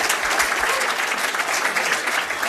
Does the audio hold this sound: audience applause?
yes